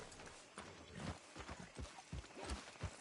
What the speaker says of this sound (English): I'm about ready to send this horse to the boneyard.